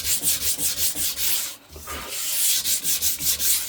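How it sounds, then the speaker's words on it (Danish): Hardwood being sanded by hand with 100-grit sandpaper for a bow build, a steady run of rhythmic rasping strokes, close and loud, with a brief pause midway before the back-and-forth rubbing resumes. "Og så er det bare lige slibe overfladen ned."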